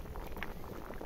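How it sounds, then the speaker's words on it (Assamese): Rice boiling in a pot, a brief, faint, steady bubbling patter heard up close with a few small pops, no voices. "ভাত ফুটিছেগৈ"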